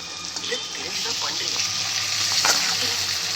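Marinated chicken pieces coated in cornflour hitting hot frying oil, a steady loud sizzle with crackles and small pops throughout.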